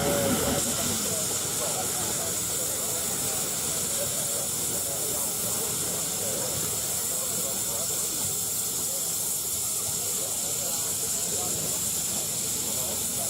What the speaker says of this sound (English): Another example here from the Adrian design, the green roller in front of us.